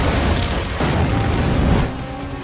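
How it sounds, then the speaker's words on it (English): A big movie explosion, a loud sustained rumbling boom that rolls on for about two seconds before dropping off, heard close and alone. "we get some like more Michael Bay-ish kind of explosions here"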